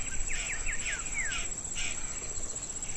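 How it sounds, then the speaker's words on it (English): A lineated woodpecker calls on a Cerrado trail at Barba Azul, a quick series of descending whistled notes followed by a couple more, moderately distant over a steady insect drone. "Here we have the lineated woodpecker."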